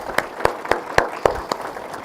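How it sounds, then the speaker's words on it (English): A few people at an award event clap for a panel in a slow, sparse rhythm, about eight distinct hand claps spaced roughly a quarter second apart, close and moderately loud. "I want to give a quick round of applause to our panel."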